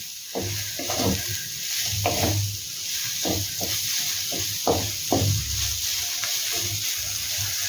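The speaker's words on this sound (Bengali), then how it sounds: "চিনিটা দিয়ে আবার এটাকে মিলিয়ে নেবো ভালো করে" Sugar is stirred into a chicken mixture sizzling in a pan, with repeated spatula scrapes and knocks over a constant frying hiss, close and without speech.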